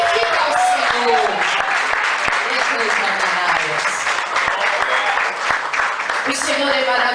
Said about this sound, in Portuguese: Pode se assentar e glorificar a Deus com as palmas bem alegres para o teu Deus